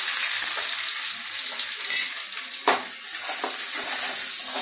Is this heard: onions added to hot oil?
yes